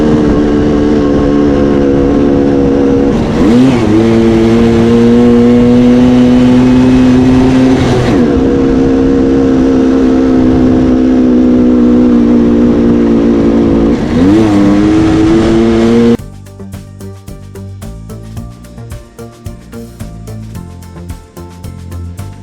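Simson mopeds straining uphill on a steep hilly road near Meiningen, engines droning loud and close with steady harmonic whine, revs rising at several gear shifts, then a rougher, choppier idle-like rattle for the final seconds; no talking.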